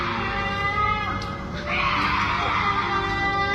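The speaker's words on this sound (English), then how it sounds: "he suddenly heard loud screams coming from below" Shrill, distorted screaming echoes from below in a wooded area over a rough, noisy background, rising in intensity partway through; the source sounds muffled and somewhat distant.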